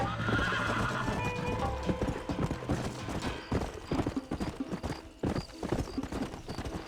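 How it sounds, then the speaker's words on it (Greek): Horse hooves clip-clop at a steady gallop in the Western video game Red Dead Redemption, loud and continuous, with whinnies and neighs breaking through near the start. "Τρέξε λίγο άλογο, γιατί μας φτάνουν οι άλλοι."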